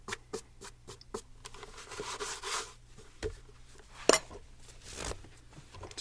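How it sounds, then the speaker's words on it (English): Shoe shine brushes buffing a leather brogued wingtip shoe with tassels, giving soft close rubbing and brisk bristle strokes in an uneven rhythm, with a few sharper taps. "You kind of have to dance the brushes around those tassels."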